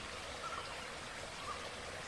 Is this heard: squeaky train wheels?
no